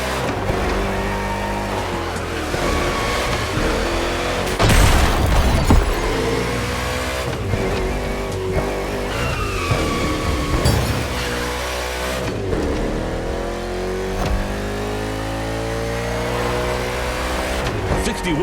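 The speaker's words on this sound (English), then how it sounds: "Henson's car is returning to the race after a quick stop." Race cars roar steadily through a NASCAR event in The Crew Motorfest, engines droning loud and continuous with a louder burst near the middle, while talk runs over the engine noise.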